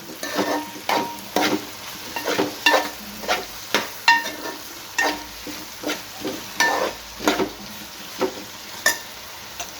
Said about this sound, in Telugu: ఇప్పుడు టమాటా ముక్కలు వేస్తున్నాను.